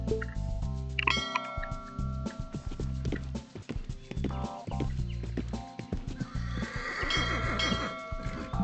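In the horse-riding video game Let's Ride, a horse gives a loud whinny over game music while hooves clatter and thud throughout, followed by a bell-like chime near the end.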